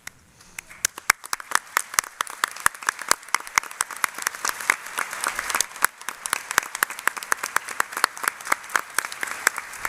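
A room of people at a registered nurses' pinning ceremony claps for nursing mentors, the applause building from scattered claps into steady, moderately loud clapping that continues throughout.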